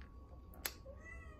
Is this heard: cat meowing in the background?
yes